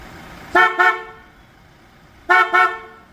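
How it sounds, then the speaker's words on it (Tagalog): A Super Bass Max aftermarket horn fitted to a 2026 Toyota Fortuner GRS sounds two double honks, each a pair of short loud blasts, close and clear with a pause between pairs. "Sample mo yung busina. Nilagyan namin siya. Super Bass Max."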